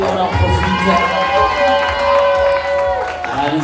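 Crowd cheering and clapping for a runner crossing the finish line of an ultra trail race in Corsica, close and lively, with shouts and voices over music in the background.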